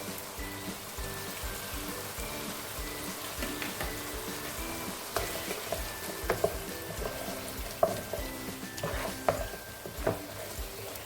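Tomato paste sizzling and frying in a pot with hot chili and onion for egusi soup, a steady crackle broken by scraping, clanking stirs and a few sharp knocks of a spoon against the pot.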